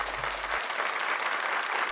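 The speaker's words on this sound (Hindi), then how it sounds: "तालियां" A studio audience at an Urdu-language quiz show claps for a contestant, giving a dense, steady burst of applause that fills the short moment evenly with no voices.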